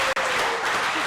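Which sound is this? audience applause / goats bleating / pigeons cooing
audience applause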